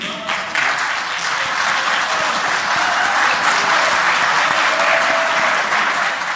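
Parliament members clap in a sustained, dense burst of applause that fills the chamber, staying loud and even from start to finish.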